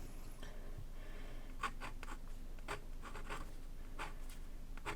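A Kakimori brass dip nib scratches across paper in short, rough strokes with brief pauses between them, close and quiet, with no voice.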